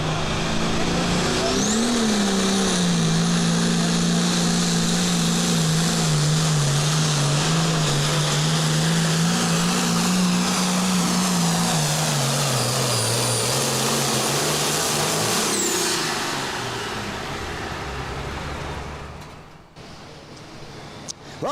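A pulling tractor at a county fair tractor pull roars at full throttle for most of the run, a loud sustained engine howl with a slowly wavering pitch that drops away near the end, followed by quieter idling.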